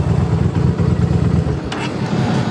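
A Honda VT750C2 cruiser idles with its factory exhaust missing the baffles, giving a close, loud, steady low rumble with a slightly uneven pulsing beat and no talk over it.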